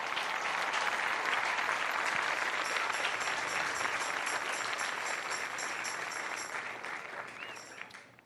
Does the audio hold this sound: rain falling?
no